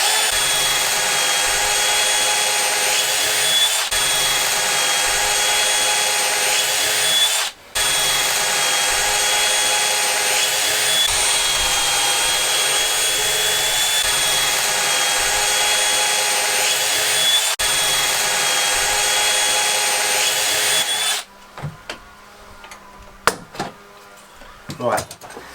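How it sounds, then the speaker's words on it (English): Power drill boring into wood while building planters, a loud, continuous whirring whine held for long stretches with a brief pause partway, ending abruptly into quieter workshop clatter. "On drill, try using the right drill, and then again you can drill"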